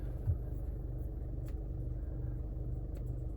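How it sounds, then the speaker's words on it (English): A Jaguar F-Pace D180 diesel settles into a steady low idle rumble right after starting, close and even, with a couple of faint clicks over the drone and no talk. "We just start the vehicle up."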